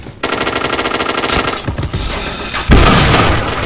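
In the online shooter Point Blank, rapid automatic gunfire rattles loud and close in a continuous burst, punctuated by a heavier boom near the end, with no talking.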